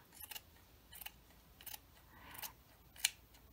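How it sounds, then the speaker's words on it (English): Scissors snip fabric off a thrifted vest in five quiet, separate cuts spaced about every half second to second, close but faint, with no talking. "Now this might be a little big, so I'm going to cut some of that off"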